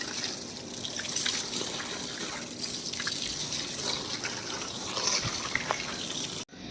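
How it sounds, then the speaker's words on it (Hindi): Running water splashes and patters steadily onto plants outside a house, a continuous close wash with scattered drips that cuts off abruptly at the end, with no voices. "मैं तो पेड़ों को पानी दे रही हूँ।"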